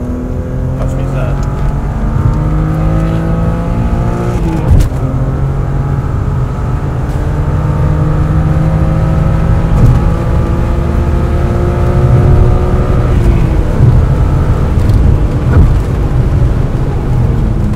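A BMW E36 M3 engine revs loudly and steadily under acceleration, its pitch climbing through several sweeps with brief drops between gears, close and continuous throughout.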